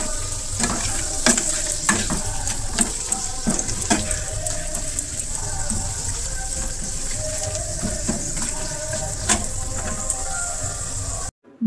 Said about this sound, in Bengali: তো আজকে একটু পাঁপড় ভাজা খাওয়ার মন হচ্ছিলো, তো চলো পাঁপড় ভেজে খেয়ে নিই